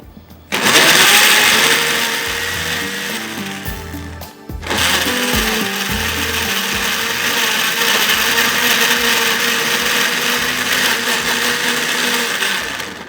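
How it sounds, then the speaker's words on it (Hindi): A Super Asia blender grinds tomatoes in a kitchen, its motor roaring loud and steady, briefly pausing near the start before running continuously to the end. "इसलिए कि मेरे पास है सुपर एशिया का ब्लेंडर, जो मैं कहती हूँ नंबर 1 क्वालिटी की।"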